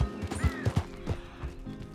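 Wild horses in Red Dead Redemption 2, with a few soft hoof thuds and a faint whinny against a steady game ambience, fairly quiet and without voices.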